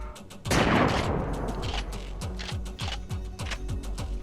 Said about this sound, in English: I think those are tree explosions